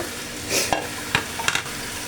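Fried katla fish pieces are stirred into mustard paste in a pan, giving brief scraping stirs and a few close sizzling bursts over a low, steady hiss, with no talking.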